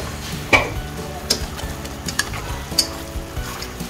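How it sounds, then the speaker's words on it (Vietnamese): Sugar melting in a pan for Vietnamese sesame balls with mung bean and taro filling, stirred steadily under a constant sizzle, with several sharp utensil scrapes and clicks spaced about a second apart, close and moderately loud. "Mình sẽ khuấy cho đường tan ra."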